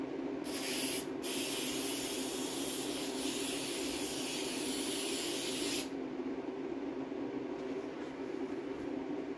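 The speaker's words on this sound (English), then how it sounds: "I'll spray some on the back of this as well." Spray adhesive hisses from an aerosol can onto the back of a seat cover for a 1970–72 Triumph TR6, a loud continuous spray of about five seconds that then stops, with a steady background hum throughout.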